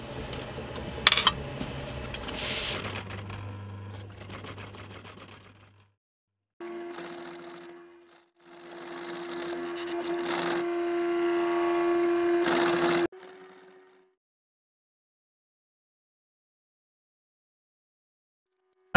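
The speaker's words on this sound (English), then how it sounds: "I'm just going to start sewing in this number 3 zip." A sewing machine stitches a zip into a waterproof outdoor garden seat pad cover, running in several bursts with pauses between, a steady mechanical whir ending in silence.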